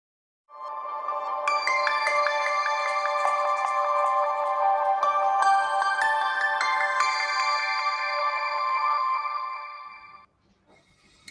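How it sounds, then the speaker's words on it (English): A sustained, resonant bell-like chime rings steadily for about ten seconds with shimmering overtones, then stops abruptly; no voices. "that was sort of like a little calming bell thing, isn't it? Ringing in the background"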